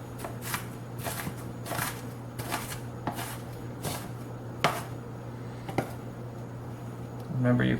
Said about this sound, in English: you want to come across it after you've cut it up a little bit, and you want to go ahead and cross chop it